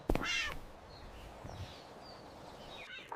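A cartoon cat in an animated Bengali moral story lets out a sharp, close meow at the start, then a fainter second meow near the end over quiet background.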